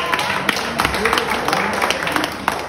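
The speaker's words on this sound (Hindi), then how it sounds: "बहुत शानदार तालियां बजाने का है।" An audience at a hospital staff celebration claps in a brisk, uneven patter while a voice talks over it throughout.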